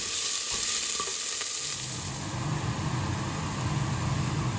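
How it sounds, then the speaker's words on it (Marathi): Sliced onions fry and get stirred in a pan for brown rice, giving a continuous close sizzle with a few scraping stirs early on. "अशें भाजया आतां."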